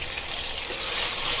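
Turmeric and Kashmiri red chili powder frying in hot oil in a pan, a close, bright steady sizzle that swells slightly toward the end.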